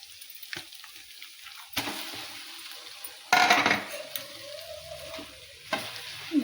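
Mashed potato filling for aloo paratha being stirred and pressed in a pan, close and soft, with intermittent scraping knocks and a few louder clatters from a utensil, no voice over it.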